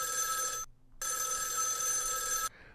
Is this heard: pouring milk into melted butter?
no